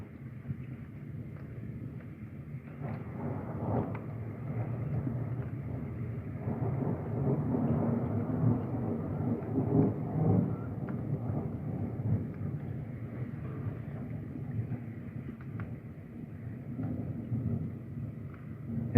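Severe thunderstorm with heavy rainfall, marble-sized hail and mild wind gusts: a steady, loud low roar of rain and rumbling thunder across the whole stretch, swelling in the middle, with no voices.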